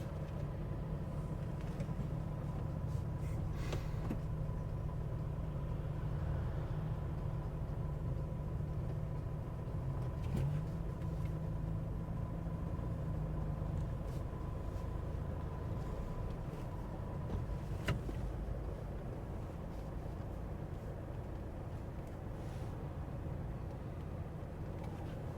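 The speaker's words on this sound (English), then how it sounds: "Here's the traffic jam." Cars idling in a traffic jam on the Isle of Mull, a faint, steady low engine hum and rumble that holds for the whole stretch, with occasional soft knocks and no clear voices.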